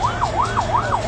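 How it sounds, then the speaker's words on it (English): A presidential convoy vehicle's siren wails loudly and close in a fast, regular rising-and-falling sweep, repeating about three times. "not only are you hearing the sound of the siren on the vehicle"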